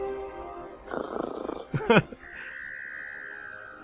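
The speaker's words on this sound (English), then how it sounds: "And that's the sound of Cheep Cheep snoring" A cartoonish snore from a bird in The Book of Unwritten Tales 2: a raspy, croaking inhale swells, then a squeaky burst, followed by a steady whistling exhale tone.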